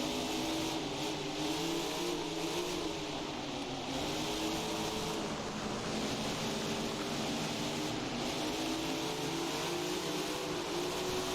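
Sprint cars in a video game heat race, their engines roaring loudly and continuously as they rev and accelerate together around a dirt oval, alone with no talk.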